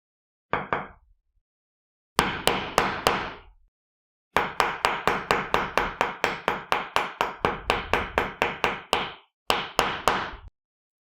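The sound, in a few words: hammering a leather fan knot bracelet on an anvil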